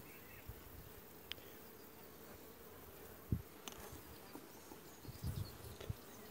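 Honey bees from a weak colony buzz softly around an open hive during an inspection, a faint continuous drone with occasional closer passes.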